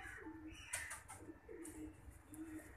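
High flying pigeons cooing softly in repeated low throaty phrases, a few calls close by against quiet surroundings, with a brief faint chirp and no speech.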